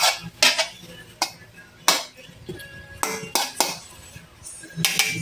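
Metal utensils clatter and scrape against a cooking pot while a mixed vegetable dish is stirred, giving irregular close clinks and knocks with a faint background hum and no talking.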